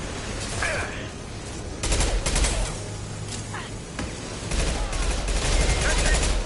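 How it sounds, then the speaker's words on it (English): Rapid bursts of impact shots fire in a space exploration video game, clustered volleys under a steady low engine hum, loud and close with short gaps between salvos. "Firing an impact shot."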